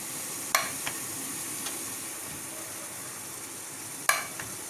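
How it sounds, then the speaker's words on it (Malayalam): A pot of water steams on a gas stove, giving a soft, steady hiss with a couple of sharp metallic clicks from the vessel. "ഇതാ പാത്രം ആവിയിൽ വേവിച്ച് വയ്ക്കാൻ വെച്ചിട്ടുണ്ട് ആവി വരുന്നുണ്ട് കേട്ടോ"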